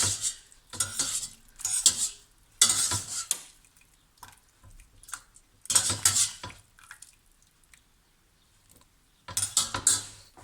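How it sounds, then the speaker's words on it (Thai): Ingredients for an Italian-style parsnip dish are tossed together in a bowl, heard as several close bursts of scraping, clinking utensil strokes separated by brief quiet pauses. "มาคลุกให้เข้ากันก่อน"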